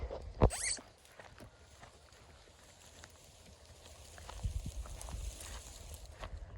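Horses walk on a Ukrainian farm with two young foals nearby, their hooves clip-clopping in a loose, scattered rhythm at moderate distance, with one sharper knock early on and faint background noise throughout.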